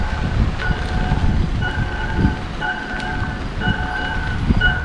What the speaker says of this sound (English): The backup sound coming from this vehicle is also pretty interesting. It's different from the front